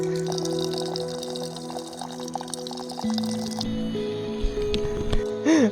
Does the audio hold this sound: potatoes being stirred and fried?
no